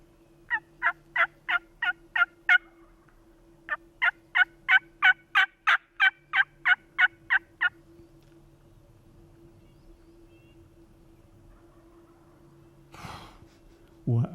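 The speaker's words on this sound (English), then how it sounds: "What a gobble that bird has." Wild turkey gobbling on public land during a spring hunt, two long bursts of rapid, rattling gobble notes in steady rhythm, close and loud, followed by quiet and soft breathing-like sounds.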